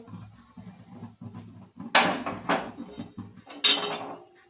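A spoon knocks and scrapes against a pot as cumin seeds are stirred in ghee for jeera rice, giving a few sharp clinks amid quieter shuffling.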